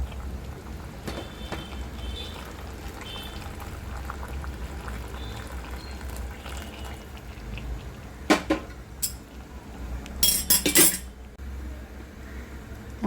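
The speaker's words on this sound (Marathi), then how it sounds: "गरम पाणी ॲड करूया आपण हे ठेवले ना हे ॲड करूया" Hot water goes into a pot of cooking chicken, making a low, steady watery rush. Sharp metal clinks and clatter from the pot and utensils come near the end, and no one talks.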